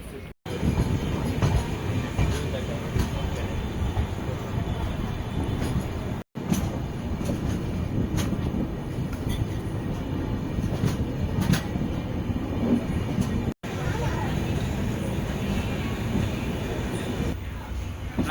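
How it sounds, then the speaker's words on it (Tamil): The Puducherry–Yesvantpur weekly express rolling along, with a steady loud rumble of wheels on rails and occasional clatter and squeal, briefly cut by short gaps. "10:30க்கு நம்ம ட்ரெயின் புதுச்சேரியிலேருந்து மூவ் பண்ணிட்டாங்க"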